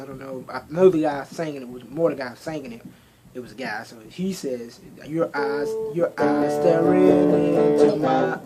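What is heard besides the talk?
No everyday noise stands out behind the speech.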